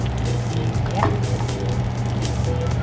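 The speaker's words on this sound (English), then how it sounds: "That's our oven fan, if you wonder what that noise is." A kitchen oven exhaust fan runs steadily throughout, a constant low broadband roar with a strong low hum, while cooking noises such as a faint sizzle and light clatter sit on top of it during the making of Korean pancakes.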